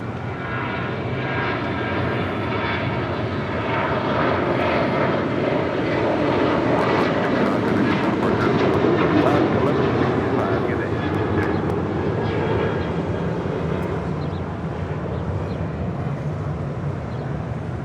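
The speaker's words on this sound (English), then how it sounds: "Next departure is Alaska Airlines Flight 1165 heading to Portland on a 737-900ER." A Boeing 737-900ER jet airliner departs Los Angeles International Airport, its engine roar broad and steady at close range for the whole stretch, swelling slightly near the middle, with a voice speaking over it.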